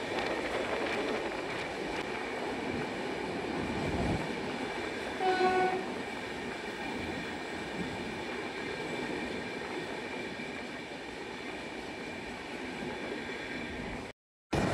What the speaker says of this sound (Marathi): पहिल्या टनलला आता आपली ट्रेन क्रॉसिंग करणार आहे.